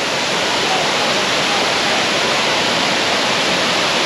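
Milla Falls, an Australian waterfall turned into a natural swimming pool area, gives a loud, close, continuous rushing roar with no talk over it.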